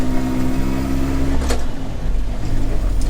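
A Series 1 Land Rover's engine and gearbox running steadily with a low droning rumble while the driver hunts for second gear, with a brief mechanical scrape from the shift partway through.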